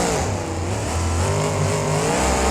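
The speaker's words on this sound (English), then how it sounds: "his truck's a bit louder than the others because he has those zoomy headers on" A monster truck with headers revs hard in the BeamNG video game, a loud, close, continuous engine roar whose pitch rises and falls throughout.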